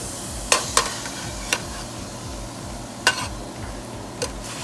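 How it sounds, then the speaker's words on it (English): Onions and garlic fry in the juices rendered from beef, a continuous close sizzle broken by several sharp utensil scrapes and taps against the pan as it is stirred. "That's what we're going to use to fry the onions and the garlic."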